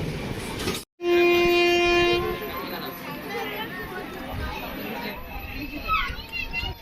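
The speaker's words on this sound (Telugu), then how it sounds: "కొత్త వలస క్రాస్ చేసిన తర్వాత అవుటర్కి వచ్చేసరికి నాకు ఈ బొగ్గు ట్రైన్ కనబడింది" A coal goods train rumbles past with a loud sustained horn blast near the start, then a long steady clatter of wagons as voices of people talking are heard in the background.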